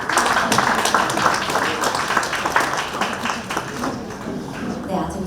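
An audience at a book launch event in Nonsan applauds a guest, a steady spread of clapping mixed with voices that tapers off toward the end.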